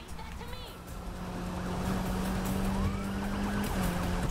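A police car siren in a Need For Speed Heat chase, one cop in pursuit, sounds as a steady wail over the continuous roar of a game car engine, loud and close throughout, with nitrous and skidding in the race.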